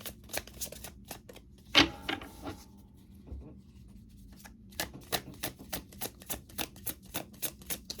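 Oracle cards shuffled by hand during a reading, a quiet rapid run of crisp riffling taps in quick bursts, close and soft, with a brief voice in the middle.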